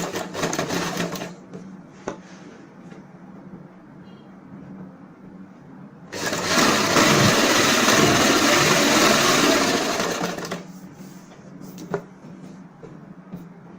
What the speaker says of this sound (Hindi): नेफा फोल्ड करते हुए किनारे की सिलाई लगाएंगे